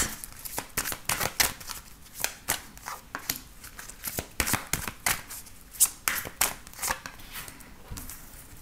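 Tarot cards shuffled by hand in quick, irregular bursts of riffling and slapping, close and fairly quiet, with no talk over it.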